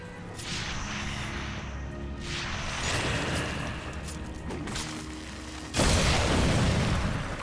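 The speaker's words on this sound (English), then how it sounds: "I like that the explosion slightly slowed down for a second." An explosion in the video game Darksiders 2 booms and crashes amid rumbling debris, building through the middle and then bursting louder near the end with a heavy, sustained roar.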